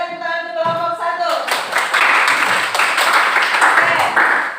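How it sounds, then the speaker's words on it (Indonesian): A classroom bursts into steady clapping for a student group right after a teacher speaks briefly; the close, dense applause continues to the end. "berikan tepuk tangan untuk kelompok 1."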